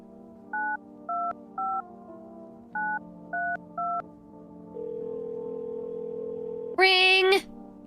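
Six short touch-tone beeps from phone keypad dialing sound in two groups of three, then a steady held tone, followed by a brief louder, brighter ringing burst at the end.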